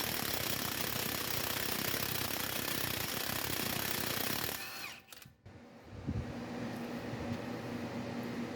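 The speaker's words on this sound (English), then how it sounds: "So now I'm just gonna get my big impact gun and we're gonna snap it off." A big impact gun hammers loudly on a locked lug nut until the stud snaps, a dense rattling burst for several seconds that cuts off abruptly, followed by quieter shop noise.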